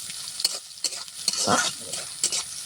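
Chopped onion, garlic and green chili fry for greens with a low sizzle broken by several quick spatula scrapes and taps against the pan, close and without talk.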